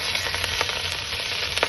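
Chopped onion and bay leaf frying in a little oil in a pan give off a steady, dense sizzle with small crackling pops throughout, close and fairly loud, with no voices.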